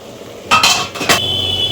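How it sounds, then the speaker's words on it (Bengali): Metal pot lid clanks twice as it is lifted off a pot of potatoes and eggplant cooking with katla fish oil, two short bright rattles close by in a quiet kitchen. "ঢাকনাটা তুলে নিচ্ছে।"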